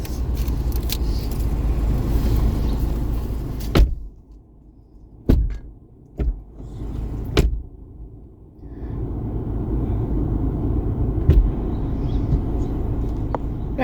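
A family car on the school run, steady low road rumble and engine drone up close, broken midway by a quieter stretch with sharp clicks and thumps of doors or keys before the drive noise returns.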